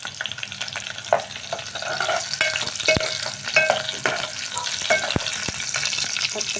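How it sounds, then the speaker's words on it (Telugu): Sliced onions fry and sizzle steadily in a hot pan while being stirred, with sharp clinks and scrapes of a spoon against the metal cutting through the continuous crackle. No one speaks. "ఆనియన్స్ బాగా వేయించుకోవాలి."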